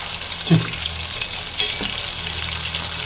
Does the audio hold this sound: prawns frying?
yes